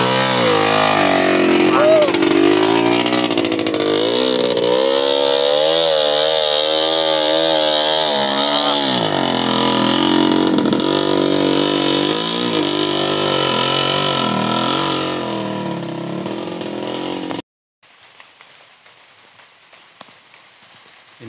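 Motorcycle engine revving loudly as it pushes through a village garden in light drizzle, a continuous rough drone with rising and falling pitch, then cutting off abruptly near the end, leaving faint ambience.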